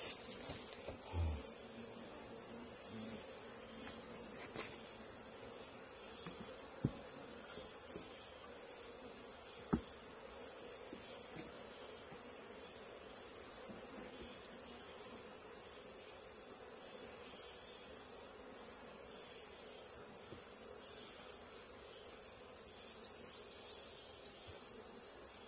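Hornets buzz around a wooden beehive smashed and thrown by a marten, a continuous insect drone lasting throughout with faint scattered knocks and no speech.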